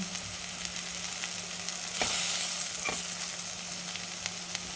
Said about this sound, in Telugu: ఒక్కసారి వేయించాలి